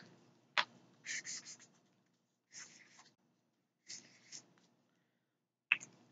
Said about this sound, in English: So we're going to write it down here. I want to write it down.